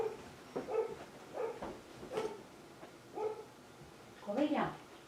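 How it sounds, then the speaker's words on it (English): Indoor dogs barking in a home craft room, a series of separate mid-pitched barks spaced about a second apart, moderately close, with a few louder overlapping yaps near the end. "my dogs are barking."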